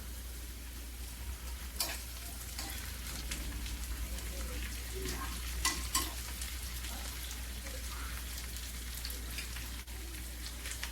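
Dried flat fish frying in oil with already fried onion and garlic, a steady close sizzle with occasional sharper crackles and stirring, under a low hum and some talk.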